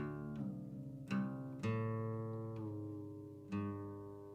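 A guitar being retuned between songs, with single plucked strings ringing out and fading, struck about five times at irregular intervals with no talk.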